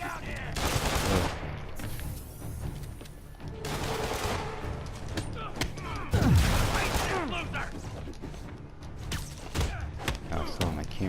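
Repeated bursts of gunfire crackle through a Marvel's Spider-Man action scene on PS4, loud volleys recurring every few seconds amid thuds and impacts, with a player talking over the fight.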